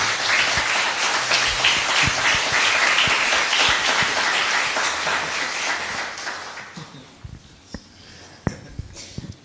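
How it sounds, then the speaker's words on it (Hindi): Loud audience applause filling a hall, thick and sustained for about six seconds before fading into scattered individual claps and quieter room noise. "इनको भी पता चल रहा होगा कि तालियों की आवाज बढ़ी कब।"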